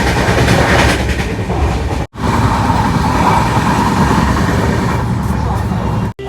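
An express train rolls steadily after leaving Pandit Deen Dayal Upadhyaya Junction, heard from inside a general coach as a loud continuous rumble with rattling, broken by two brief drops in sound.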